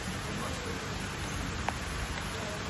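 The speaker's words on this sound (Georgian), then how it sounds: "ჟუჟუნა წვიმაც მოგვივიდა" Light drizzle falls outdoors during a fishing trip in Thailand, producing a soft, even hiss of rain with a single faint tap midway.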